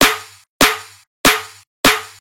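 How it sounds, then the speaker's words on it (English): Four separate snare drum hits from a sample, each a sharp, bright crack with a short decaying rattle, evenly spaced and close. "This is a snare, sounds like this."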